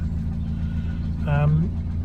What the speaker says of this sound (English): Idling beautifully, just sitting exactly as it should.